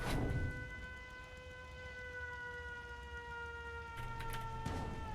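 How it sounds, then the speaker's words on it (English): Alarm siren in the video game Fallout 76, a steady wailing tone sounding continuously throughout, fairly loud, with a few brief clunks near the end. "let me go turn off the fucking siren right quick"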